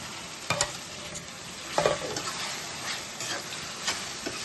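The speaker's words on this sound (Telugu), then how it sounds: "ఉల్లిపాయలలో మగ్గిన తర్వాత మనం కట్ చేసి పెట్టుకున్న టమాటా ముక్కలు వేసుకుందాం" Tomato pieces tipped into onions frying in a pan for chicken curry, giving a steady soft sizzle with a few louder stirring scrapes and clatters near the start and middle.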